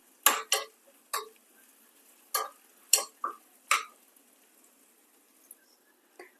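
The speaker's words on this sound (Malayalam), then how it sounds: "ഇച്ചിരി ചുവന്ന ചെറിയ ഉള്ളി ചെറിയ പീസായിട്ട് കട്ട് ചെയ്തതാണ് അതിട്ട് കൊടുക്കാം ഒന്ന് ഇളക്കി കൊടുക്കാം" Chopped small red onions are stirred in a cooking pot, with a spoon clinking and scraping against the metal in a handful of sharp, irregular knocks, some in quick pairs, with quiet gaps between.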